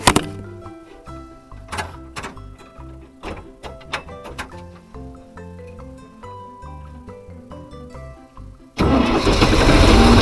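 A vehicle engine cranks in uneven bursts for several seconds while vine stumps are being collected, then catches and roars into a loud, steady running sound at the end.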